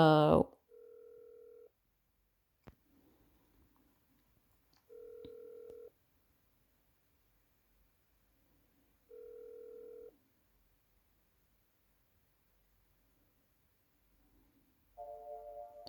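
Telephone line ringing while a call is transferred, several evenly spaced electronic ring tones separated by silence, with a brief burst of voice at the start.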